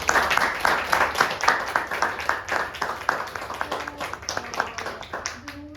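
An audience at an art conversation event claps, a loose round of individual claps that starts fairly strong and thins out, fading as a voice begins near the end.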